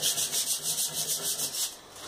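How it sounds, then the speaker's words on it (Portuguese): Rapid back-and-forth sanding strokes on a bicycle handlebar, about a dozen even rhythmic scrapes close up, stopping near the end. "Vou botar ali e lixar o guidão."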